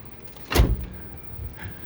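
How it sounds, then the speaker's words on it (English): Door of a Challenger V114S Break Edition compact camper van swung shut, a single close solid thud followed by quiet. "so let's close the door"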